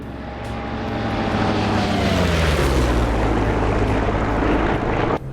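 The P-47 D30 Thunderbolt's radial piston engine drones loudly and steadily in flight in the DCS combat flight simulator, a heavy propeller roar with a slowly shifting pitch that holds throughout.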